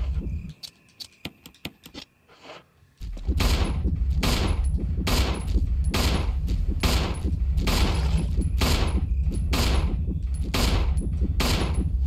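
Rapid, evenly spaced gunshots in the Resident Evil 1 video game, grenade rounds and handgun fire, loud and continuous after a few sparse opening shots.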